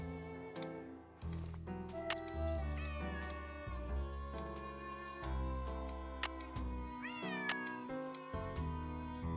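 A cat in the Nancy Drew game Secret of the Old Clock meows repeatedly in clear, tonal cries over a continuous music bed, close and distinct, with occasional clicks and no speech.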